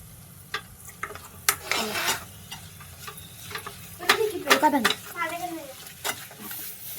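Grated coconut mixture with green food colour stirred in a pan for coconut vadi, a series of scraping and clattering spoon strokes over a faint background hum, with brief squeaky scrapes in between.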